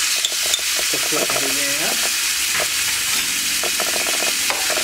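Meat frying in a pan and stirred with a utensil, with a constant loud sizzle under repeated scraping strokes, while a voice briefly speaks over it.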